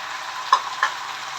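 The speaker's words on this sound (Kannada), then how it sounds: "ಇನ್ನೂ ಸ್ವಲ್ಪ ಅದು ನೀರೆಲ್ಲ ಹೋಗೋ ತನಕ ಚೆನ್ನಾಗಿ ಫ್ರೈ ಮಾಡ್ಕೊಬೇಕು" Drumstick leaves fry in a pan for chitranna with a steady, close sizzle and two brief stirring scrapes, no voices.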